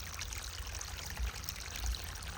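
Irrigation water flows into a vegetable field in a Gujarati village, a quiet, steady trickling pour with a couple of soft low thumps and no talking.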